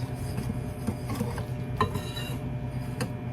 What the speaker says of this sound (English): let's just mix this all up right like this